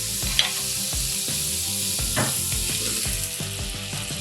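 Butter melts and sizzles in hot oil in a pan, a dense steady frying hiss with a few light clicks of the pan, close and continuous, with no talking.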